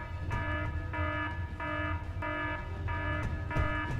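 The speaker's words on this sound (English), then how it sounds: "So I'll go ahead and set off the red alert alarm here." Red alert alarm aboard a ship in the Space Engineers video game, a repeating electronic buzzing tone pulsing in even bursts about every 0.6 seconds, played alone.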